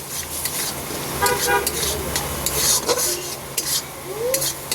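Turmeric being stirred in a cooking pan on the stove, with soft scraping and light sizzling, close by, while a car horn toots faintly in the background.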